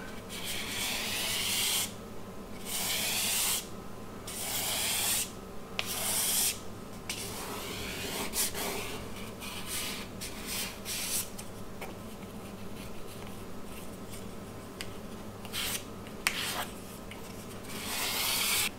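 Excess cement slurry is scraped off a concrete countertop being patched for air-bubble voids, giving a steady rasping scrape in repeated strokes with brief pauses between them, close and moderately loud, with no talking.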